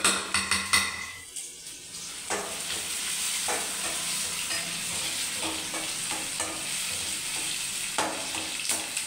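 Chopped onions frying in a pan for a chicken fry, a continuous close sizzle with scraping stirs and clattering utensil knocks at the start and scattered through.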